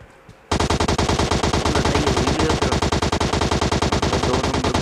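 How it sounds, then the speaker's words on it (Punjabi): Rapid automatic gunfire from the mobile battle-royale game PUBG Mobile Lite, on the new Golden Woods map, bursts in after a brief quiet and keeps up as dense, loud, steady rattling shots for the rest of the clip. "ਗੋਲੀਆਂ ਚਲਾਉਣ ਲੱਗਿਆ ਹੋਇਆ"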